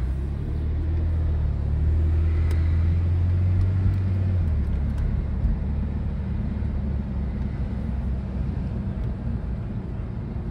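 2007 BMW Z4 with Tiptronic transmission pulling away, a steady low engine drone heard from inside the cabin with a brief rising rev at the start, then settling into road rumble.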